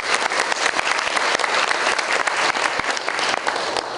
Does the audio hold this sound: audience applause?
yes